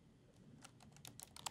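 Faint, scattered keystrokes on a computer keyboard as an application name is typed into a G Suite admin screen, a quick irregular run of soft clicks with no voices.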